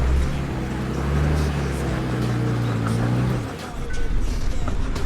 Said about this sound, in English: Second gear, both lockers in, and see if it will climb up this slippery rock step stuff here.